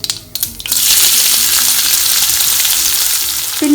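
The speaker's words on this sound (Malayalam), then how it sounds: "അങ്ങനെ കടുകൊക്കെ നന്നായി പൊട്ടാൻ തുടങ്ങിയിട്ടുണ്ട്." Mustard seeds pop and splutter in hot oil, then a loud burst of frying as chopped onion hits the pan, settling into a steady close sizzle that fades slightly toward the end.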